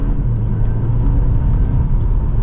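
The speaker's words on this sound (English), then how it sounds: "So if we shut off the iconic sound and we give it an acceleration just in more of a normal setting" A 2024 BMW X1 M35i with its enhanced engine sound switched off accelerates in normal driving, giving a quiet, smooth low rumble and whir heard from inside the cabin, with no speech.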